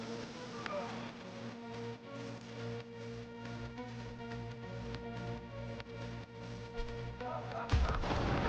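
Rapid gunfire in a Cyberpunk-style shooter video game, a steady stream of shots running under a droning musical soundtrack, ending in a louder burst near the end.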